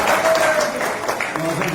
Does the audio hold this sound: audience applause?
yes